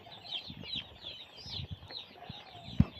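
Chickens cluck softly in a farm setting, several close murmuring calls with wing flutters and rustling, ending with a sharp thump.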